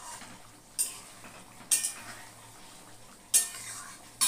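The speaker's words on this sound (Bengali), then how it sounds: "চিকেনটাও দিয়ে দিয়েছি, দিয়ে এখন ভালো করে কষাবো" Chicken cooks in a pan with spices under a low, steady sizzle, punctuated by three sharp metallic clinks of a spatula against the pan, close and with no voices.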